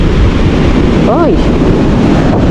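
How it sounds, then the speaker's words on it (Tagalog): Sea waves wash onto the shore near a beach hut, a loud, constant roar of surf and wind that fills the whole stretch, with a brief voice-like sound rising above it partway through. "Oh, ang alon ay abot din eh."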